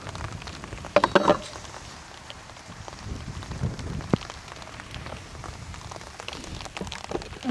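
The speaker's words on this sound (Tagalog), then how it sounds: "Umuulan na!" Heavy rain suddenly pours steadily onto a surface, making a dense, continuous hiss with scattered louder drops and a few knocks, close by.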